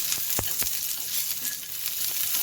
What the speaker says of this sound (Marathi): थोडा लसण आणि दोन आल्याचे तुकडे त्याच्यामध्ये ते पण आपल्याला व्यवस्थित परतून घेऊया